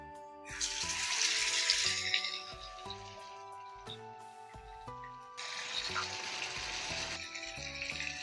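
Marinated chicken deep frying in hot coconut oil, a loud, steady sizzle with bursts of bubbling that swell twice, over a soft background of clinking and music-like tones.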